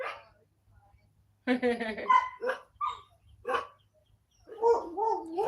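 Dogs give a few sharp barks and whiny yips close by, with a person talking between them.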